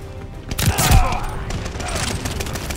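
Bursts of rapid gunfire in a Call of Duty: Vanguard team deathmatch multiplayer match, loud and close with a heavy boom near the start and a player voice talking over the shooting.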